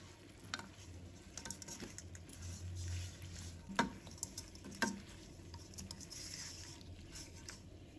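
Chicken feet are tossed in a wok with soy sauce, giving a quiet, steady sizzle with soft patter and a couple of sharp clinks of a spatula against the pan.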